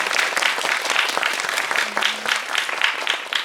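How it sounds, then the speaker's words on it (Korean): Steady applause from a cinema audience at a film Q&A screening, dense clapping sustained throughout with no pause. "네, 박수 부탁드립니다"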